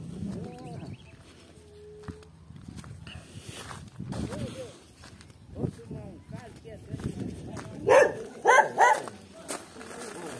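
A dog on a rural farm barks a few times toward the end, sharp and close, while people talk in Portuguese through most of the clip over background animal noise.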